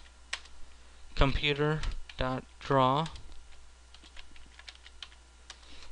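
Fast clicking keystrokes on a computer keyboard in bursts throughout, close and crisp, while someone speaks briefly in the middle.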